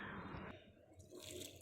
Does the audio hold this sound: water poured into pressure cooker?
yes